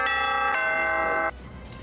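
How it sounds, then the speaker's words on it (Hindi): A stock market closing bell rings on a financial news broadcast, a loud resonant metallic ring that holds steady for over a second and then cuts off into a faint room tone. "और ये बच चुके हैं आपके लिए क्लोजिंग की घंटी।"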